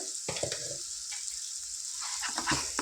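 Turmeric and ginger garlic paste frying in a pan for capsicum curry, a steady quiet sizzle with a few soft stirring scrapes near the start and end, no voices.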